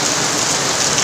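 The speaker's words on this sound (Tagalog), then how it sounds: "Tag-ulan na talaga guys ngayon." Heavy tropical rain pours down in a dense, loud, unbroken hiss, close and steady throughout, with no voices.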